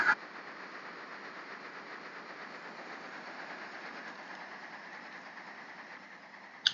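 A steam locomotive engine runs in a video game, giving a steady, unbroken mechanical drone at moderate volume from start to finish, with brief clicks at each end and no voices.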